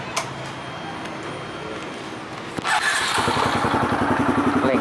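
A Honda MSX motorcycle engine kicks into life partway through after a quiet lead-in, then runs with a close, loud, pulsing rev and idle.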